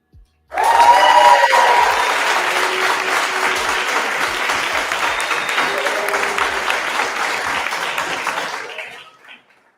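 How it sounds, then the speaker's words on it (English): A panel audience bursts into a full round of applause that starts suddenly, stays dense and loud for about eight seconds with a few voices mixed in, then tapers off. "Let's give a round of applause and a hinu to the great brother, Anu."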